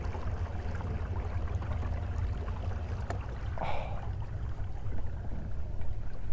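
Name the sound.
kayak cruising with DIY electric trolling motor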